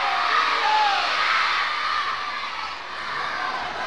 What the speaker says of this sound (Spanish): Los que gritan más fuerte son allí los más peques.